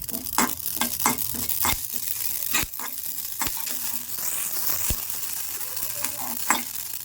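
Watermelon seeds and poppy seeds dry roasting in a pan, a soft steady sizzle broken by repeated sharp scrapes and taps of a spatula stirring, close and fairly quiet with no talking.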